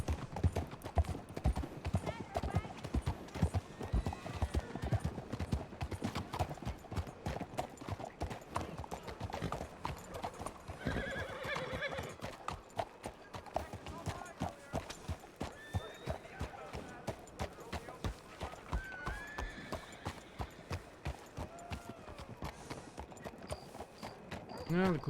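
A horse walks with a steady clip-clop of hooves and lets out a whinny along the way, while people talk over the hoofbeats.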